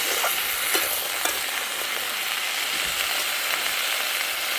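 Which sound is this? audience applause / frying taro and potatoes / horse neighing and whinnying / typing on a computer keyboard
frying taro and potatoes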